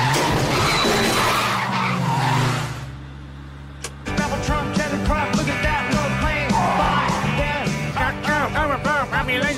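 Cartoon car skidding in an animated comedy scene: a sustained screech with tonal squeal layered over engine-like rumble, loud throughout, briefly cutting out before resuming with a busy, warbling sweep and noisy texture.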